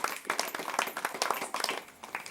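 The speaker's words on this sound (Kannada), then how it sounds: "ಎಲ್ಲರೂ ಗಟ್ಟಿಯಾಗಿ ಚಪ್ಪಾಳೆ" A church congregation clapping loudly together, a brisk, fairly even rhythm of many hands close by, sustained for a couple of seconds without talk.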